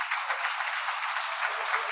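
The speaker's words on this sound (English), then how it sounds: "I think Lagos deserves a round of applause." Audience at a 2022 procurement summit applauding, a steady wash of clapping from many hands with no voices over it.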